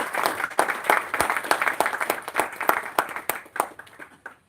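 An audience at a live book release event applauds to welcome a speaker, a dense burst of clapping that starts strong and then gradually thins and fades out.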